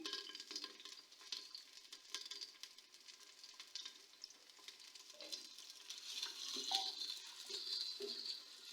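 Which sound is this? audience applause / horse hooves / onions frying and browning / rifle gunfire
onions frying and browning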